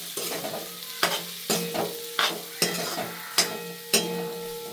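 Boiled potatoes with salt are stirred in a frying pan for sabudana khichdi, a soft sizzle under regular metallic scrapes roughly every half second, heard up close with no speech.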